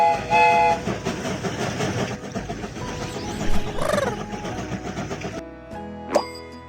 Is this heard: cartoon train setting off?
yes